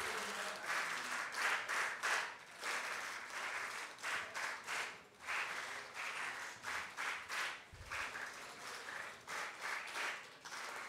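Audience applause fills a panel discussion auditorium, a steady crowd clapping that swells and dips in waves for about eleven seconds with no talking over it.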